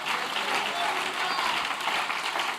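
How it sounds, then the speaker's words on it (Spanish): A church congregation applauds during a sermon, a dense steady wash of many hands clapping at an even level throughout, with voices mixed into the noise. "Dele ese aplauso al Señor"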